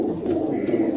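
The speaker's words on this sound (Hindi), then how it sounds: "सब नंबर वाले कबूतर हैं" Numbered pigeons offered for sale coo steadily and low, a continuous close murmur of several birds with no talk over it.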